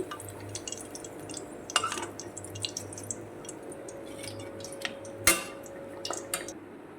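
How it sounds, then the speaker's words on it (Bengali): Ash gourd chops fry in hot oil with a soft, steady sizzle, joined by a few faint clinks of a utensil against the pan. "এবারে আমি একে একে সব চপগুলো ভেজে নিচ্ছি"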